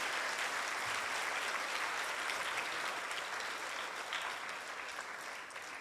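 Audience applause for performers who came on stage after a dance show, a dense, steady clapping from a crowd that holds at an even loudness for several seconds.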